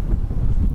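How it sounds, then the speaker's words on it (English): Gusty wind buffeting the microphone at an exposed, cool racetrack, a steady low roar filling the short moment with no other clear sounds. "Here at a very windy Waterloo and cool."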